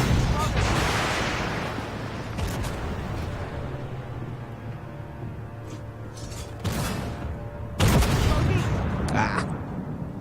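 Deep tank cannon booms in Armored Warfare, a few heavy shots spaced several seconds apart with rumbling decay between them and a voice talking in the background.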